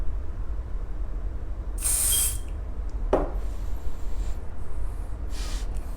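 Two short hissing sprays from an aerosol body spray can, the first a little longer, with a soft knock between them against a quiet room background.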